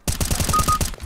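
A rapid burst of about six close, loud gunshots from a rifle in the game CS:GO, fired in quick even succession.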